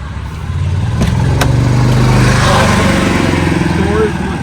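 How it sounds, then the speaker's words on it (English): Small golf cart motors hum close by, rising and passing as the carts roll through along a roadside, with outdoor background noise. "We have a lot of golf carts coming through here."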